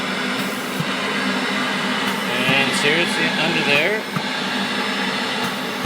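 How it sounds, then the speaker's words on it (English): A vacuum drones steadily while pulling loose powder off a freshly 3D-printed Stormtrooper head, a continuous whooshing hum at close range with a person talking over it partway through. "We just have to vacuum off the powder."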